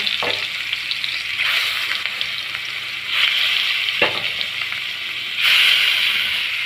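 Rui fish pieces are dropped one by one into a hot wok of oil, each landing in a fresh burst of hissing sizzle over a continuous loud crackling fry, with no talking.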